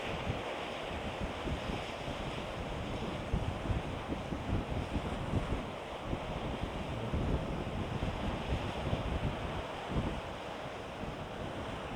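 Strong gusty wind on a sandy beach by rocks roars continuously into the microphone, with surf-like rushing noise filling the scene and no voices.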